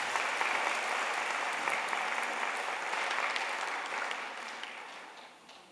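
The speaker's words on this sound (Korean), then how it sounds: "우리 박수로 맞이하겠습니다" A church congregation at a New Year's Eve service gives steady, full applause to welcome two children, the clapping holding even and then tapering off toward the end.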